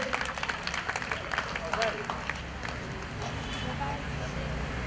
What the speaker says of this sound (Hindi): हमारे प्यारे आजार संजार जी और सलमान शेख जी के लिए जोरदार तालियां हो जाए